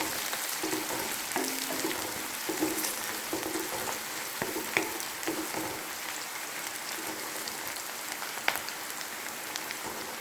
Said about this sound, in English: Fry the onion until it changes the color.